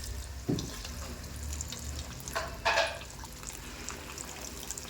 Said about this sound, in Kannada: ಹಾಲು ಹಾಕೋತೀನಿ ರೀ ನಾನು